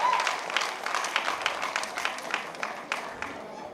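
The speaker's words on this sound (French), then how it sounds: "il faut l'applaudir très fort" Audience clapping at a French televised evening event after an award announcement, a steady patter of many hands close by that thins slightly toward the end.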